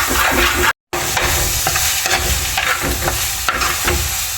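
Masala paste for kaalan is stirred and roasted in a pan, a close, continuous sizzle with repeated scraping strokes of a spoon, briefly cut off near the start.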